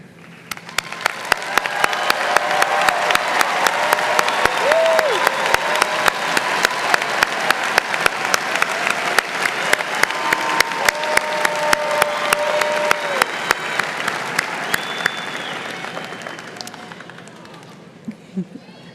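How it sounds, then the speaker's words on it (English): Sustained applause from a large commencement audience honoring graduating students, a dense steady wash of clapping with scattered sharper claps throughout, tapering off at the end. "please stand and receive our well-deserved applause"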